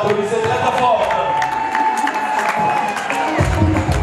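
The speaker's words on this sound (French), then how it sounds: "S'il vous plaît, applaudissez très très fort." Audience applause at a beauty and entrepreneurship event in Zurich, steady clapping with some cheering that continues for the full four seconds, alongside a sustained tone.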